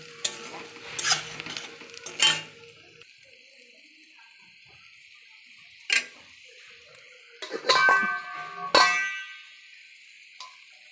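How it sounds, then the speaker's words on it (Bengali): Mutton being stirred into fried onions in a pan for biryani: scattered bursts of metal spatula scraping and clanging over a quiet background sizzle, with long still gaps in between. "আমার পেঁয়াজটা ভাজা হয়ে গেছে, এবার মাংসটা আমি ঢেলে দেবো।"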